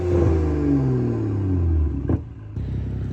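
A BMW M235i engine runs loud and close, its tone sliding down smoothly as revs fall, then a brief clatter and a short dip before it settles back to a steady idle rumble.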